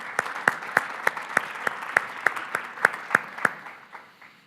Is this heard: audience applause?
yes